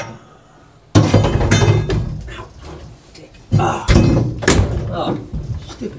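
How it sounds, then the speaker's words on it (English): A door bangs hard twice in a garage shop where a 1950 Mercury roof chop is underway, each loud impact followed by rattling clatter, with someone speaking. "Oh, stupid door."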